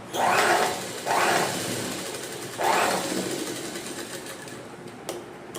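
Domestic sewing machine stitching a saree fall, three distinct bursts of rapid whirring motor stitching separated by brief pauses, fairly close and moderate in level, with a small click near the end.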